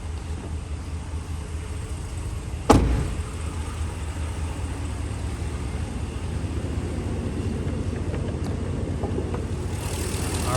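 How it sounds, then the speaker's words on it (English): A 2020 RAM 1500 Big Horn's 5.7 liter HEMI V8 runs at a steady, even idle, with a single sharp click early on and no talk over it. "Nice healthy sounding V8 engine."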